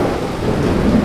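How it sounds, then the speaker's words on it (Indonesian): Heavy rain pours down with a deep rumble of thunder underneath, a dense, loud, continuous wash over about a second. "Wow, hujannya cukup besar"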